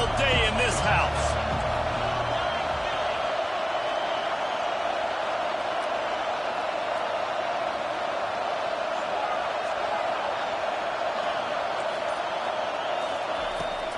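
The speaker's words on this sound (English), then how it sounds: "This crowd trying to show them what it's going to be like all day in this house." Clemson football stadium crowd roaring continuously at a college game, a steady loud wash of cheering and noise filling the whole stretch, with a few thumps near the start.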